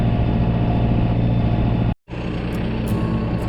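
A cab tractor's engine runs at a steady, close idling drone on a snowy farm during winter chores. The drone cuts out briefly partway through, then resumes at the same level.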